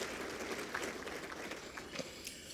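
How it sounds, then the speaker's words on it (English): A round of applause from an audience at an Akron Roundtable gathering, steady and moderately distant, a continuous wash of many clapping hands. "Round of applause."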